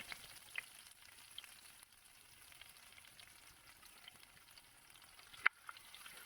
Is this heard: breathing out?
no